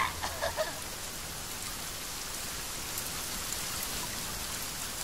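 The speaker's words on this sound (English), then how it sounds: "Oh, and that's raining." Steady rainfall in The Forest video game, a dense, even hiss of drops on surfaces that continues unbroken, with a few brief sharper sounds at the start.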